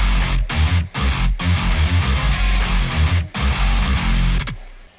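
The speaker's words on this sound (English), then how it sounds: "altogether the guitar sections sound like this" Loud, thick distorted guitars play a heavy chugging riff with a booming low end, pausing briefly between phrases before cutting off at the end.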